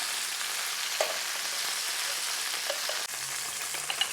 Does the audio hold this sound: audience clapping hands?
no